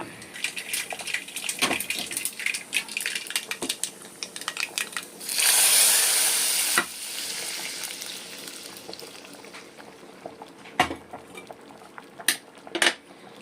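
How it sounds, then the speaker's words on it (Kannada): Hot mustard seed and cumin tempering poured into sambar sets off a sharp sizzling burst lasting a second or two, amid quieter clinks and scrapes of kitchen utensils. "ಇಲ್ಲಿ ಒಗ್ಗರಣೆಗೆ ಸಾಸಿವೆ ಸ್ವಲ್ಪ ಜೀರಿಗೆ ಹಾಕಿದ್ದೀನಿ ಇವಾಗ ಇದನ್ನು ಇದಕ್ಕೆ ಹಾಕಬೇಕು"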